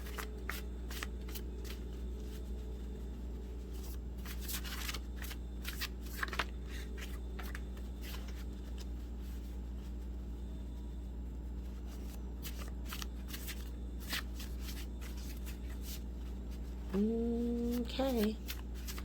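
Oracle cards are shuffled by hand in steady, close riffling bursts that carry on for most of the stretch, over a low constant hum, before a short burst of speech near the end.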